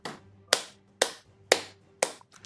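In the PC game Gigantic: Rampage Edition, a player's celebratory clap sounds as five sharp, loud, evenly spaced claps about half a second apart, each with a short decaying tail, followed by a faint flutter.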